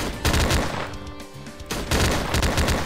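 Bursts of rapid gunfire from the horror video game Slendytubbies 3, loud and close, with a short pause in the middle before firing resumes.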